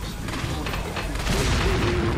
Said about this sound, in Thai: เอ้ยแย่แล้วแย่แล้วเดี๋ยวมันระเบิด